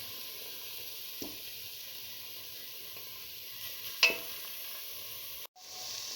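Eggs fry in a pan with a constant, even sizzle and hiss, broken by a couple of soft taps, one brighter clink, and a sudden brief cutout near the end before the sizzle resumes.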